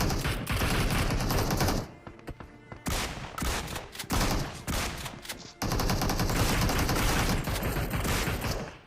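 Dense bursts of automatic gunfire and shots from an online shooter video game crackle loudly in rapid volleys, broken by a few short pauses, with no talking.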